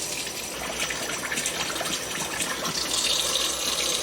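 Tap water gushes steadily into a sink while a ceramic flameware skillet is scrubbed with a new nylon sponge, a continuous broadband splash that swells slightly louder near the end.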